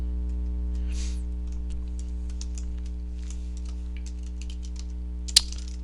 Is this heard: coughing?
no